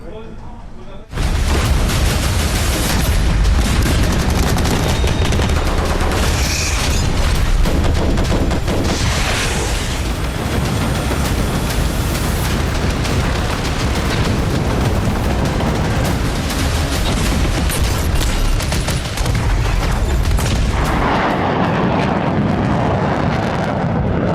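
Heavy booming blasts and rumbling detonations from military strikes in Pakistan-administered Kashmir roll continuously, loud and dense, with crackling bursts layered over a deep low roar.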